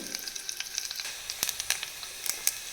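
A crushed ingredient fries in hot oil for a mango dal tempering, a close, crackling sizzle with frequent sharp pops and spits over a soft, steady hiss.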